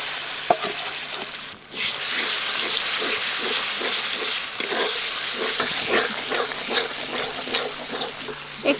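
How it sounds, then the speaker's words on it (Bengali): Chicken and leftover spices fry in a hot pan with a loud, steady sizzle, broken by occasional stirring scrapes and clinks. "চিকেনে যে মশলাগুলো রয়ে গেছে এই মশলা ভালো করে কষে নেব"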